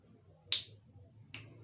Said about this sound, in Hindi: चुटकी, चुटकली जो आप बजाते हैं उसकी आवाज़ आए